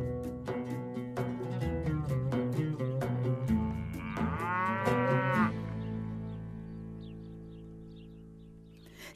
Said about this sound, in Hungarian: Itt van egy tehén.